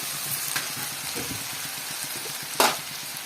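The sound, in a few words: spiced potato curry frying and simmering in a pan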